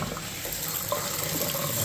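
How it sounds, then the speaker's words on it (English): Water rushes steadily through a bathtub faucet line as it is flushed out during bathroom plumbing work, a continuous close hiss of running water with no talk. "Go ahead and flush the bathtub out."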